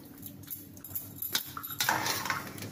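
A spoon mixes sweet, ghee-scented coconut rice with a pinch of salt in a pan, giving close clinks and soft scrapes that grow busier and louder toward the end, with no talking.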